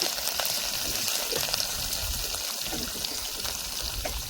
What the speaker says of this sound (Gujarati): થોડુંક આપણે પાણી નાખ્યું.